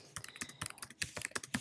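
Fingers type on a computer keyboard in a quick, uneven run of crisp key clicks, close and clear with no voice over them.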